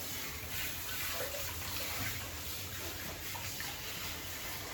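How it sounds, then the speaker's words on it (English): Running water rinses a short-clipped Shih Tzu during a grooming bath, a steady close wash of spray and splashing that continues without a break for the whole stretch. "they are doubly rinsed and then rinsed again"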